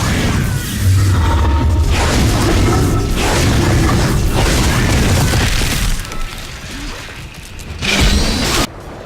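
Weapon fire from the line gun in the video game Dead Space: heavy booming blasts and crashes repeat over a dense, loud game soundscape, with a sharp burst near the end.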